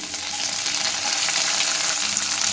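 Big onions frying in hot oil in a pan for brinjal biryani give a steady, close sizzle that holds even throughout, with no talking.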